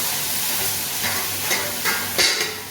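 Cumin, garlic and onion sizzle steadily in hot oil in a home kitchen pan, a loud, continuous frying hiss broken by a few brief stirring scrapes, with no voices.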